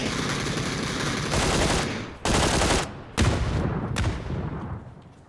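Rapid bursts of automatic gunfire in PUBG, loud and close, broken by a few sharp single shots and brief pauses, with no speech over them.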